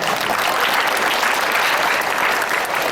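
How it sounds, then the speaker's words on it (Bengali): An audience at a theatre workshop closing ceremony claps in loud, dense, sustained applause that fills the whole stretch without pause. "উপস্থিত সবার কাছ থেকে একটা হাততালি চাচ্ছি"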